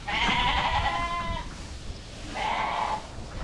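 Newborn lambs bleat in a barn, two clear drawn-out cries close by with a short gap between them, over steady barn background noise.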